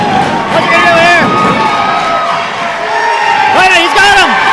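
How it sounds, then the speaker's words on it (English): Wrestling crowd at a live match yelling and whooping wildly, with rising and falling shouts and cheers piling over a loud, continuous roar of voices. "The crowd is going wild for Daniel Exotic!"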